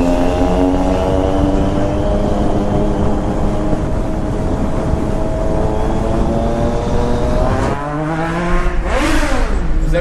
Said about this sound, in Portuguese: A street tá berrando demais, demais, demais, demais. Aquele escapezinho tá cabuloso.